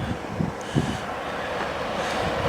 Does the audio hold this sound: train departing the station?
yes